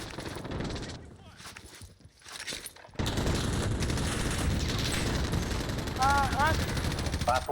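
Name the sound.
M4A1 rifle gunfire in the video game Call of Duty Warzone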